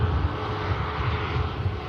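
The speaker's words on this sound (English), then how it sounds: "We'll capture this Ryanair going out." A Ryanair airliner departs Manchester Airport, its steady engine roar loud and continuous, with a low rumble that stays even and unbroken throughout, no talk over it.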